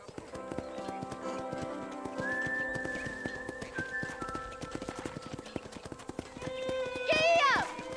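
A horse in Red Dead Redemption gallops with rapid, rhythmic hoofbeats close by, over soft music and whistling tones, ending with a loud whinny; voices speak in the scene.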